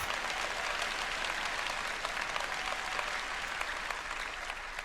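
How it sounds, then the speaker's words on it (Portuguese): Church congregation applauding during a sermon, a steady wash of many hands clapping, fairly faint and distant, with no talk over it. "Eu preciso de uma salva de palmas melhor."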